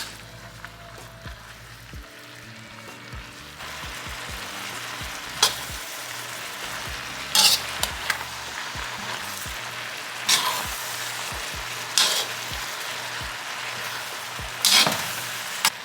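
Southern fried cabbage sizzles steadily in a pan, with about five sharp scraping stir strokes at intervals over the constant close frying hiss.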